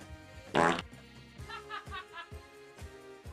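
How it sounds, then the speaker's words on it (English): A reversed, reverb-drenched fart sound effect swells up in a loud burst, followed by fainter echoing tail and tonal background sounds, with no talking over it. "When someone does reverse reverb fart, I can't talk until someone lets it back out again."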